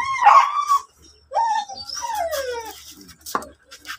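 A beagle being bred vocalizes loudly and close up with a run of strained yelps and drawn-out, whining howl-like cries, rising and falling in pitch, with no talk over it.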